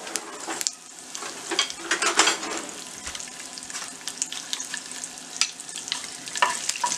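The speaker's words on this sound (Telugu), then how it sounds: "ఆయిల్ హీట్ అయిన తర్వాత ఆవాలు, జీలకర్ర, కరివేపాకు వేసుకొని ఫ్రై చేసుకోవాలి." Mustard seeds, cumin and curry leaves frying in hot oil, an irregular crackle of pops and spits, close and fairly loud, with bursts of sputtering throughout.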